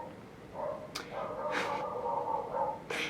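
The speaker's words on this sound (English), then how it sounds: "That's my puppy barking." A puppy yips and barks a few times, indoors and somewhat distant, with short whimpering calls in between.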